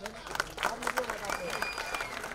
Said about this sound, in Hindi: एक बार जोरदार ताली इस पोस्टर के लिए